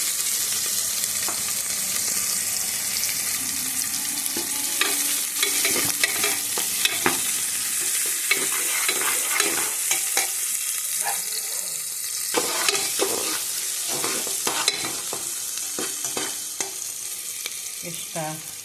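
Onions sizzle steadily in hot oil with cumin in a pan for ghugni, with repeated scraping stirs throughout; close and continuous, no talking.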